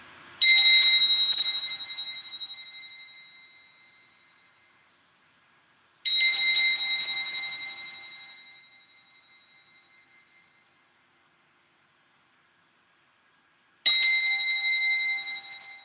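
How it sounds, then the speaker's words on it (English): A meditation bell is struck three times, each clear ringing tone sustaining and slowly fading into silence before the next strike. "the sound of the bell"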